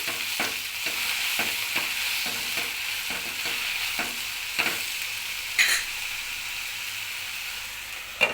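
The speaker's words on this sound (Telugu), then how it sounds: "కొంచెం పసుపు వేసి బాగా కలిపి" Turmeric gets stirred into a spinach chutney in a pan over a continuous soft frying hiss, with repeated spatula scrapes keeping an uneven rhythm and a couple of sharper knocks near the end.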